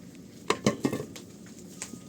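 A few sharp metallic clanks and knocks as a cooking pot is picked up and set down, close by, with quiet room tone between.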